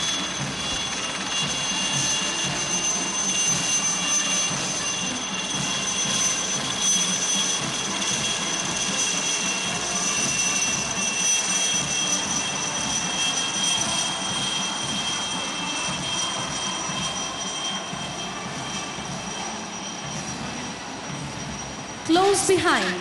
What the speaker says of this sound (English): The Chetaks are versatile, lightweight, multi-role helicopters